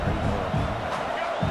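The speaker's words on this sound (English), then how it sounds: "this crowd is making it miserable on this offense" A stadium crowd at a Michigan vs UCLA college football game roars in a steady, dense wash of noise on fourth down, alone with no talk over it.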